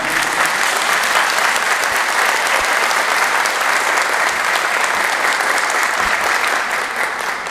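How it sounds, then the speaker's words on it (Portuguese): An audience at a samba film screening and tribute applauds loudly and steadily, a dense wash of clapping with no break throughout. "para quem eu peço uma salva de palmas."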